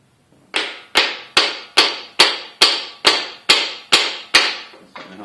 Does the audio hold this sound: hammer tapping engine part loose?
yes